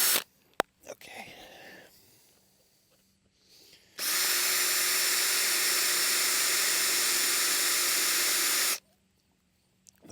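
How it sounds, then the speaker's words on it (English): A steady, high-pitched power drill whines continuously for several seconds, close by, drilling out the end of a crack in a metal housing, after some quieter handling and clicks. "The point of drilling out the very end of the crack"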